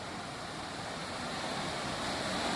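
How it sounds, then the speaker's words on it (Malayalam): The Kootar river in Idukki, swollen into a flood after heavy monsoon rain, rushes past as a broad, steady roar of water that grows slightly louder toward the end, with no voices. "ഇപ്പോഴും പുഴ നല്ല കലിപ്പായിട്ട് ഒഴുകുന്നു"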